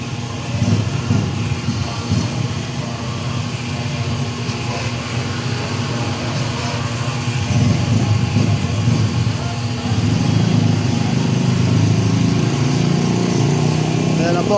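A motorcycle engine runs loudly and steadily nearby, its buzzing drone swelling at intervals as it is revved, with people talking over it.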